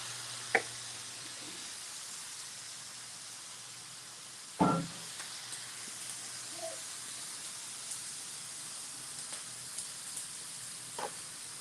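A steady, close sizzling hiss of mushrooms on a hot grill, with a few sharp pops and taps scattered through it.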